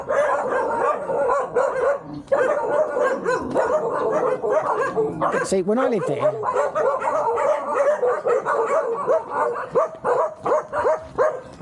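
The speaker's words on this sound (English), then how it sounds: "I used to feed those little puppies. I used to look after their mother." Several dogs, puppies and their mother, bark and yip nearby in irregular bursts in the Philippines, with someone talking over them throughout.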